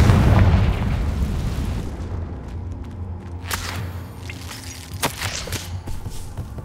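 Confringo blasting spell explosion in Hogwarts Legacy, a heavy boom at the start decaying into rumble, followed by scattered pops and debris impacts.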